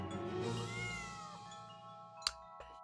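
In the video game Shadows Over Loathing, a cat gives a drawn-out, wavering meow over a soft game music bed, followed by two brief sharp clicks.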